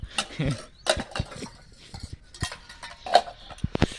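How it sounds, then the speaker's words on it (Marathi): Pots and utensils being scrubbed and washed on a foggy cold morning, with scattered clinks and scraping knocks of metal vessels, fairly close and irregular, no talk. "इकडं भांडी घासायचं काम चालू झाले अजून"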